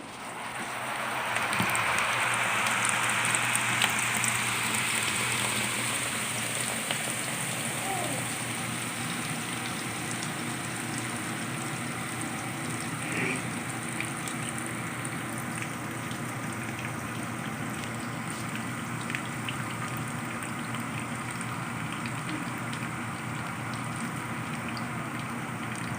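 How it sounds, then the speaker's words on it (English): A spin dryer spinning wet merino fleece whirs steadily up close, a constant motor hum with a rushing, rain-like hiss of spinning water that holds the whole time. "I've discovered that running fleece through the spin dryer takes a minute and a half"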